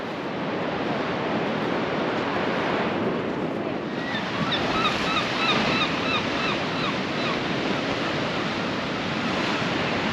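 Surf rolling onto the beach at Bridlington, a steady broadband roar mixed with wind buffeting the microphone, with a few faint bird chirps briefly heard partway through.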